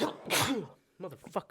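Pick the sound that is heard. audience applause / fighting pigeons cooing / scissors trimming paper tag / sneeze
sneeze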